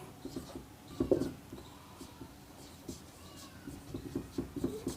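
Marker or chalk writing on a board during a biology lesson, a soft patter of short scratchy strokes in irregular bursts, fairly quiet with faint room noise.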